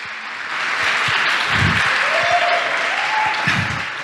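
A church congregation breaks into sustained applause, a dense roar of many clapping hands rising quickly and holding steady, with a few voices and faint tones beneath the clapping.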